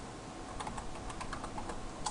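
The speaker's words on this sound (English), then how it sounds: "We're going to go ahead and type in that password" Password keystrokes on a computer keyboard, a quick steady run of light clicking taps over a constant background hiss, close and alone.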